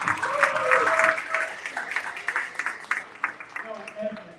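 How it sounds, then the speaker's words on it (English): An audience at a personal development event breaks into applause, a brisk clatter of many hands that swells and then thins into scattered claps. A speaker's voice can be heard over it. "Give her another round of applause."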